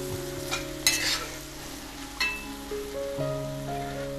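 A spoon stirs koorkka stir-fry with grated coconut in a pan, giving soft scraping strokes and light sizzle, with a couple of sharper utensil clicks over a faint steady background hum.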